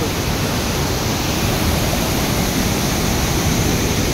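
Sana Ghagara waterfall in Keonjhar, Odisha, a loud, steady roar of falling water that holds constant and unbroken from start to finish, close and with no voices heard.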